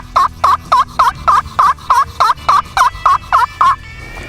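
A striker is worked across an acrylic slate turkey call, giving about thirteen evenly spaced, loud, raspy yelps in a quick, regular rhythm. The call is close and plays alone, with no talk.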